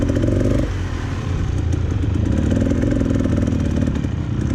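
A dirt bike engine on a mountain hill climb runs loud and close at low RPM, with a rough, crackling carburetor note that steadies after a brief shift early on.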